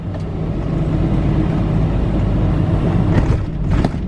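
A vehicle rolls along a road toward a bridge, its interior filled with a loud, steady low rumble of engine and tire noise, and a couple of faint rattles.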